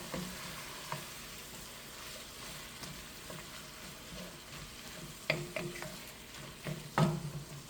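Tomato paste is stirred into a pan of ground beef stew over steady low frying sizzle, with a few louder spoon scrapes and clinks near the end and no voices.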